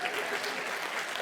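An audience claps throughout at a live stage comedy and mimicry show, a dense, steady burst of applause filling the hall, with a voice faintly mixed in.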